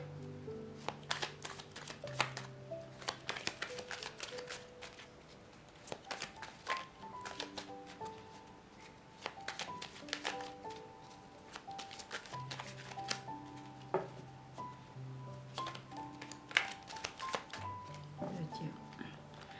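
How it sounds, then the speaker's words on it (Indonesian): Playing cards are shuffled by hand for a tarot-style reading, with repeated crisp riffling bursts and taps while someone talks softly throughout. "Oke, Bunda akan shuffle dulu."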